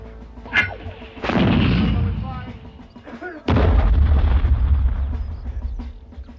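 Heavy WW1 artillery guns firing, with two big loud blasts followed by long rumbling roars and debris, a sharp whistle-like tone before the first and some shouted voices in the din.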